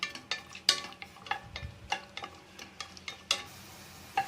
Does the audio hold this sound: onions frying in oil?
yes